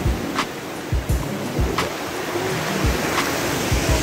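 Sea waves at Caramoan, where fresh and salt water mix, washing and surging in a steady rush with several sharper splashes and thuds breaking through, fairly loud and close, with no talking.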